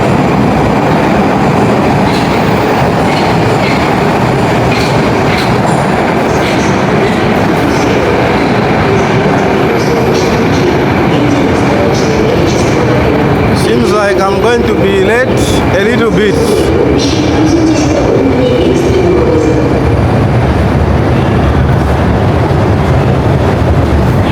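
A Moscow metro train runs loudly and steadily, its wheels rumbling and clattering along the rails inside the tunnel, with a brief burst of rattling near the middle.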